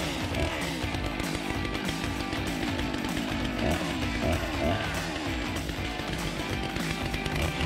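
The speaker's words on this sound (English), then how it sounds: "This chainsaw is very powerful." A Stihl MS61 chainsaw roars continuously at high revs, loud and close, with a gritty buzzing as it chews steadily through firewood.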